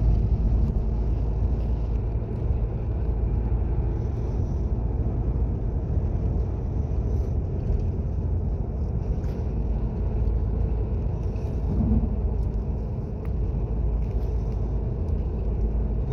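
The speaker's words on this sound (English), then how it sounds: "So now I'm going to take the car to a road test drive." A VW Passat 2.0 TDI on a road test drive, steady low engine and tyre rumble inside the cabin with constant road noise and no talking.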